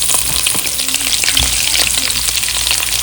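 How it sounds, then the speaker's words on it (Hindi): Okra and spices frying in a pan with onions just added, a steady, loud, close sizzle with crackling pops throughout and no voices. "इसमें हम प्याज भी ऐड कर देंगे"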